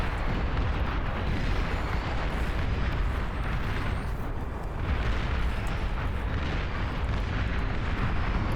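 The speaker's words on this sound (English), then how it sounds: "The catapults flinging over the top." Catapult artillery lobbing shells in the Beyond All Reason strategy game, with a dense, continuous roar of blasts and booms that stays loud throughout and has no talk over it.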